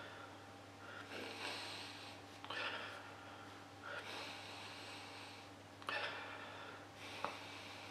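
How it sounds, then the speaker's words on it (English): Someone sniffs at a glass of BrewDog Simcoe IPA, an orangey gold beer with a frothy off-white head, making several short, close nasal inhalations at intervals over a steady low background hum. "So let's give it a sniff."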